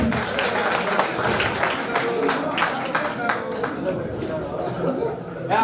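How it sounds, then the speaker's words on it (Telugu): At a school reunion for the 1990-91 SSC batch of a municipal high school in Proddatur, an audience breaks into sustained applause and clapping, with chatter and talking over the crowd noise. "అందరూ క్లాప్స్ కొట్టండి, బిగ్ క్లాప్స్."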